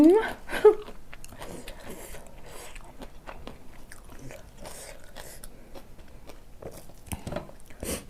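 Close biting and crunchy chewing of a spicy shrimp salad with fresh chilies and garlic, wet smacking bites repeated over several seconds while someone talks between mouthfuls.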